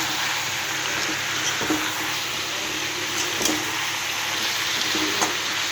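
Spinach being fried with turmeric in a pan and stirred, a steady broadband sizzle running throughout with a few faint scraping clicks of the spoon, close and even in level.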